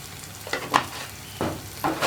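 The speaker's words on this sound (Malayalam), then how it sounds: "ഇതെല്ലാം ചേർത്ത് നന്നായിട്ടൊന്ന് ചൂടാക്കി എടുക്കുക" Kashmiri chilli powder and other spice powders fry in a hot pan for Kerala-style rasam, giving short sizzling bursts with stirring scrapes between quieter moments.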